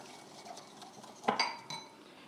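Brown sugar is mixed into a pot roast sauce, heard as soft stirring that ends in one sharp metallic clink of a utensil against the pot, fairly quiet with no talk.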